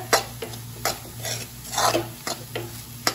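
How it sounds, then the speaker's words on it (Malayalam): Egg bhurji stirred in a pan: a string of crisp spatula scrapes and taps against the metal at an uneven rhythm, over a low sizzle, close up and with no talking. "അടി പിടിക്കാത്ത വണ്ണം നന്നായിട്ട് ഇളക്കി കൊടുക്കണം"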